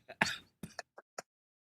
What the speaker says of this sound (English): Now you're gonna have to wait for the cough.